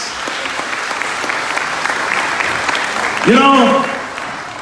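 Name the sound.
audience applause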